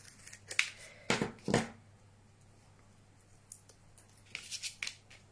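Paper is cut with scissors for a Christmas lantern craft, a few crisp snipping bursts early on, a pause, then another quick cluster of cuts, close and fairly quiet.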